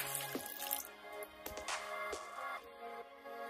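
Water pours and splashes continuously over a Moto G5 Plus phone, a steady running, faucet-like rush with a few brief louder splashes. No one talks.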